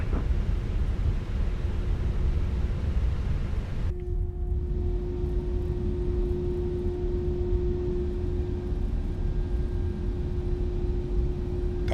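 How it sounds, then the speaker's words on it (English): A Fenix A319 airliner in Microsoft Flight Simulator 2024 gives off a steady engine roar and broadband rush, then settles into a quieter hum with a sustained tonal whine that holds unbroken to the end. "I love the sound pack of this airplane, man."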